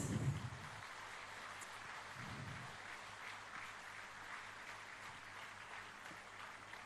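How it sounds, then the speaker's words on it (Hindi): Audience applause fills a teacher appointment-letter ceremony where 1500 PGT teachers are honoured, a steady, moderately distant wash of clapping that holds evenly throughout with no voices over it. "तालियां हो।"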